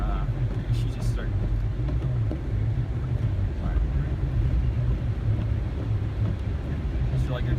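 A car driving at night through falling snow, a steady low road and engine rumble with wind noise close to the microphone, a person talking over it throughout.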